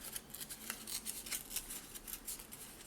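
Paper is torn by hand for an 18 x 18 cm stacked scrapbook page, a series of quick, close, crisp ripping rasps in an irregular rhythm. No talk.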